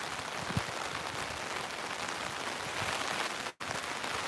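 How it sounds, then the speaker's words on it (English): Steady rain falls outdoors as a dense, even hiss that fills the whole stretch without pause, with no voices over it. "And it's starting to rain real fast."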